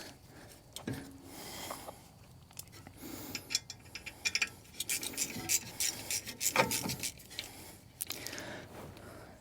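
Screw on a Mercedes C300 AMG Sport front brake caliper being run back in, a series of quick ratcheting clicks and clatters close by, busier toward the end, with no talking.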